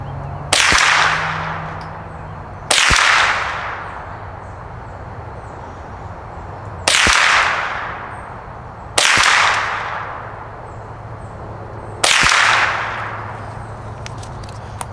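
Five sharp, loud cracks from a .22LR rifle firing Fiocchi high-velocity ammunition, spaced a few seconds apart outdoors, each followed by a short echoing decay.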